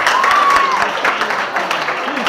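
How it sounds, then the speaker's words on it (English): An outdoor crowd applauds at a health awareness campaign at a nursing training college, a short burst of clapping with a whistle-like tone and a voice faintly mixed in. "Let's clap for them."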